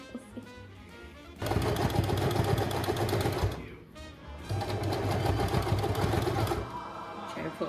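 A domestic sewing machine stitches puffed sleeves in two loud sustained runs of rapid mechanical chatter, separated by a short pause and quieter handling sounds.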